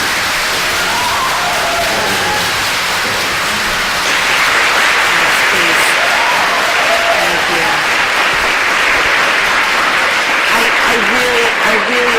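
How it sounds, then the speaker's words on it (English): An audience at a co-op board meeting applauds loudly and continuously, a dense crowd clapping that swells midway and carries on steadily with voices mixed in. "I really appreciate your applause and enthusiasm"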